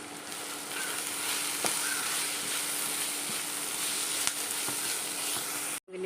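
Curry leaves sizzling in hot oil with crushed ginger and garlic for chicken curry, a soft, steady frying hiss with a few faint clicks, ending in a brief dropout.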